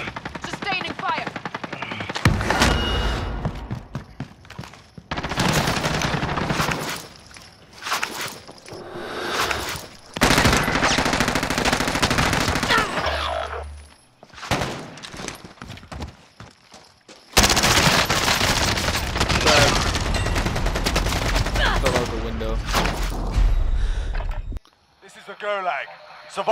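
Sustained automatic gunfire in a Call of Duty: Modern Warfare match, loud bursts with short gaps, mixed with game effects and a voice talking over it.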